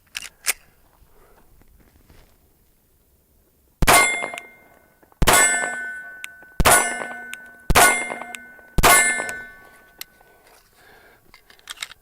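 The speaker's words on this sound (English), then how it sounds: "shooting 124 grain" Five sharp, ringing pistol shots, 124-grain S&B rounds fired at 10 to 12 yards, crack out at uneven spacing after a quiet start. Each has a bright metallic ring and a short decay.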